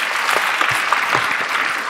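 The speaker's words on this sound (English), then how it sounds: "Please give them an applause once more." Audience applauding at a Pancha Tattva Indian music concert, steady dense clapping from a large crowd, sustained and even throughout with no talk.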